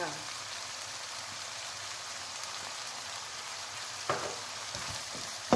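Pork and long beans stir-fried in a pan make a quiet, continuous sizzle with a few soft scraping stirs near the end, while someone talks faintly over the cooking.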